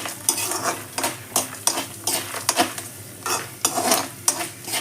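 Dal lentils frying in a pan until lightly golden, with a soft sizzle beneath regular bursts of stirring, a utensil scraping and tapping the pan roughly twice a second, close and clear with no talk.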